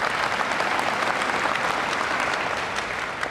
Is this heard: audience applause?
yes